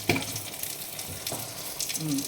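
Fresh coconut oil poured into a curry pan for tempering with curry leaves gives a soft, steady sizzle, with a few brief stirring scrapes near the start and a light clink toward the end, no talking.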